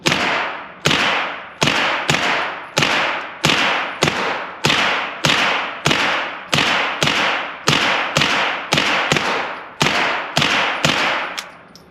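A Military Armament Corp MAC5 fitted with an Omega 9k fires at a steel head box target, producing about nineteen sharp, evenly spaced reports with short decaying tails in a steady rapid rhythm, with no talking.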